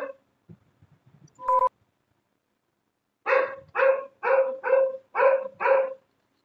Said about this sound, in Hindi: ये कुत्ता यार भौंकने पे लगा हुआ है